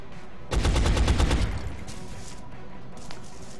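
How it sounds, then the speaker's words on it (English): A single gunshot erupts in the strategy game XCOM: Long War as a sharp, loud burst with a rattling tail that decays over about a second before quiet ambience returns. "I'll go ahead and take that shot."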